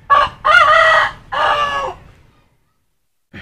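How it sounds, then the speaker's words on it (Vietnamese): Roosters crowing at close range: three loud crowing calls in quick succession, then a pause of silence before another call starts at the very end. "Đó, gà gách te tu hết."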